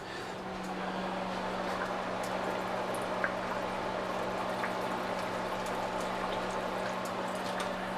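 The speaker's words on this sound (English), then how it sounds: "I'm gonna add a little bit more water to cover the potatoes" Water pouring into a pot over potatoes, a continuous steady rush of liquid with a faint low hum beneath and a few light clinks, heard close by with no talk.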